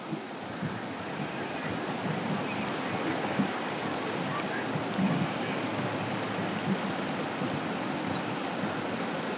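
4x4 in low-range second gear driving along through floodwater in the Namib desert, with a continuous broad wash of churning water and wind buffeting the microphone, steady and loud throughout.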